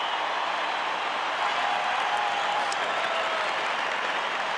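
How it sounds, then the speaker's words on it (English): A dense, roaring stadium crowd at an Australian football match between West Coast Eagles and Fremantle cheers and applauds after a goal, a loud, sustained wash of noise with no pauses. "finally, the crowd gets something to roar about"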